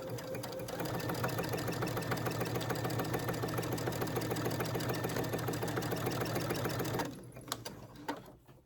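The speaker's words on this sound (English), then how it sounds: "My machine I'm using is a Baby Lock Aria" A Baby Lock Aria sewing machine runs a steady, fast mechanical stitching rhythm for about seven seconds along a ribbon seam, then stops abruptly, leaving a few faint clicks.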